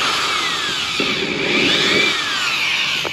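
A power drill bores into wood with a 1 1/4 inch hole saw during a porch extension build, giving a close, loud whirring grind that rises and falls in pitch over a few seconds.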